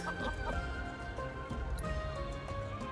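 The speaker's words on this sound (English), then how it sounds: "So we just need to catch your chickens, right?" Chickens cluck and squawk in the video game Final Fantasy VII Rebirth, with several hens close by over a busy bed of game music and ambient hum.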